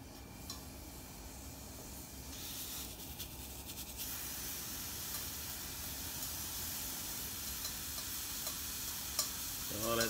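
A homemade pork sausage patty sizzles steadily in a preheated frying pan, giving a continuous close crackling hiss with faint scraping, and no voices.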